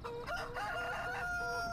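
A rooster in Farming Simulator 2013 crows one long, loud, drawn-out cock-a-doodle-doo over a steady game background, with no talking.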